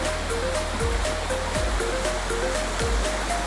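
Tinubdan Falls in Catmon, Cebu, swollen and muddy after upstream rain, pours as a constant loud broadband roar of falling water, with a low rhythmic thumping underneath.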